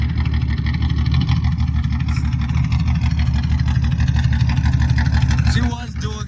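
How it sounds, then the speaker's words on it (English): A motorcycle engine fitted with dual exhaust runs at a steady, loud, close idle with a low rumbling drone, then drops off abruptly near the end. "Motorcycles, my bike."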